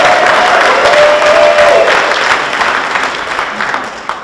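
A seminar audience at a DAV convention breaks into sustained applause and crowd cheering, loud and dense at first, then gradually thinning and fading over a few seconds.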